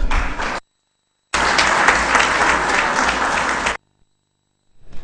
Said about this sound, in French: Je vous invite donc de l'applaudir.